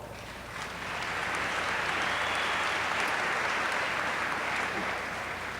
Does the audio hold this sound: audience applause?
yes